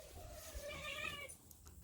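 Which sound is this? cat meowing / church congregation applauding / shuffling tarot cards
cat meowing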